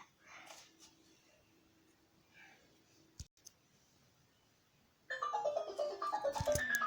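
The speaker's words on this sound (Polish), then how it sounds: "O, telefon dzwoni, muszę odebrać." An electronic phone ringtone bursts in loudly with a bright, repeating melodic pattern after a stretch of quiet room noise and faint clicks.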